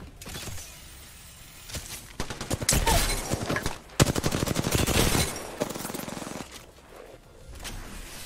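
Bursts of gunfire from Apex Legends come in rapid volleys, building from scattered shots into loud sustained automatic fire before tapering off to quieter intermittent pops.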